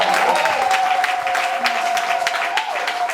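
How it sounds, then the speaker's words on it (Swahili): Church congregation applauding and cheering with full, sustained clapping and a held vocal cry riding over the crowd, loud and close throughout. "Basi nione hiyo shangwe."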